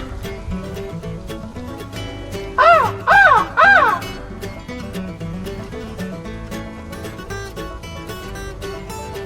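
Three loud, harsh caws from a crow ring out in quick succession over a busy, steady background of music-like sound.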